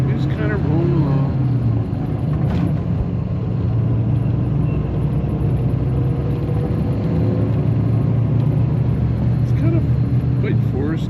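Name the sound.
bus driving along a road in Mindanao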